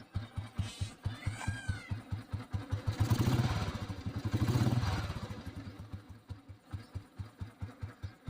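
An old petrol Royal Enfield Bullet motorcycle ticks over at idle, a steady, even thump close by, with a brief rise in revs partway through and a faint high squeak or meow-like sound early on.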